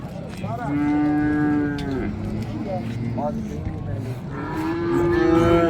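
Cattle lowing at an open-air livestock market in Andijan, with several long, drawn-out moos rising above a steady crowd murmur and background bustle.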